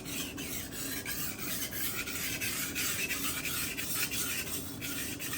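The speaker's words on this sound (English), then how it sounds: "Now you can do section sharpening" Steady rasping strokes of a knife blade worked in short sections across a SharpWorx Master 2 sharpener fitted with a Sharpening Rockstar 320 grit stone, close and continuous with a gritty scrape and no talk.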